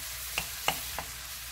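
Squid stir-fried in a pan, a faint bed of sizzle broken by three sharp spatula scrapes about a third of a second apart.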